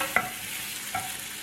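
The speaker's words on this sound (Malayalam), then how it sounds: "ഇനി ഇതിലേക്ക് അരിഞ്ഞു വെച്ചിരിക്കുന്ന തക്കാളി ചേർത്ത് കൊടുക്കാം. നന്നായിട്ട് വഴറ്റിയെടുക്കുക." Chopped tomatoes sautéing in a pan while a chicken omelette is prepared, with a faint steady sizzle and two brief stirring scrapes, the first near the start and the second about a second later, and no talking.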